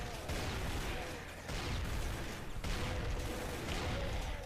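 Rapid gunfire from enemies in the video game Doom, Brutality mod, sounding as dense sustained bursts of shots with two short breaks, loud and continuous with no talk.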